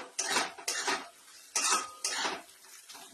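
Pointed gourd curry with a little turmeric is stirred in a pan, several rough bursts of scraping and sloshing close by, separated by short pauses.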